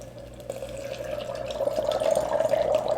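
Dry ice bubbles in water, a continuous fizzing, gurgling churn close to the listener that grows gradually louder and busier through the stretch, with no talk over it.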